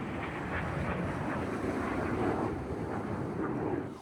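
Eurofighter Typhoon jets pass over a clifftop golf course on a coastal walk, a broad steady roar with gusty wind noise across the microphone.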